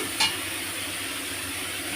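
Fish curry with turmeric and a little chili powder stirred in a pan, a steady soft sizzling wash with one brief scrape near the start, fairly faint.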